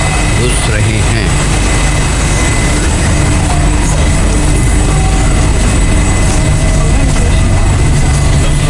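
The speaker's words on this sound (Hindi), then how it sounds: "ये है राशिदिया ट्रेन जो कि आ चुकी है और इसमें हम घुस रहे हैं।" A loud, continuous rumble of a Dubai Metro train arriving at a platform fills the space, with steady mechanical roar and hiss, and voices talking over it.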